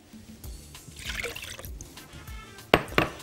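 A cup of milk pours into a bowl, a soft close liquid glug and trickle with a couple of sharper splashes and glassy clinks near the end.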